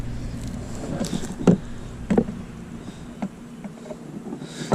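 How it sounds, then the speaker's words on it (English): Honey bees buzz around open hive boxes during a hive inspection, a steady low insect drone close by, with a few brief knocks and clicks from handling. "I got 3 boxes of bees over here and a bunch over there."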